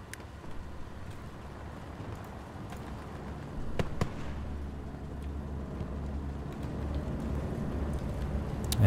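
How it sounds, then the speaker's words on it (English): Distant explosions from an enemy bombing run in the World War II shooter Hell Let Loose rumble as a low, continuous roar, with a few sharper booms standing out around the middle, all heard from far off. "Enemy bombing run coming in somewhere?"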